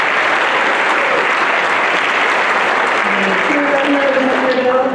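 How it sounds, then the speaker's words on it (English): Loud, steady applause from an audience at a school Veterans Day assembly honoring veterans, dense clapping filling the room throughout, with a few voices audible toward the end. "Give them a round of applause."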